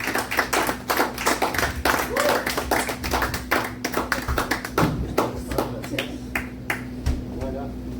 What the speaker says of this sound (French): bonne applaudissement pour Sylvie